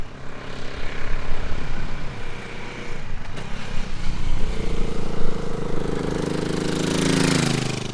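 Rumbling exhaust of a 2022 BSA Gold Star single-cylinder motorcycle with a Euro 5 system, passing through noisy outdoor air, then settling into a steady buzzing drone that swells toward the end.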